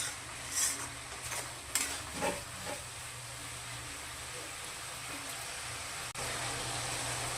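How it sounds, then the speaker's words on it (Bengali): Eggplant frying in a pan, stirred a few times with scraping clinks over a quiet, steady sizzle that carries on alone. "আবার একটু ভালো করে নাড়াচাড়া করে নিব।"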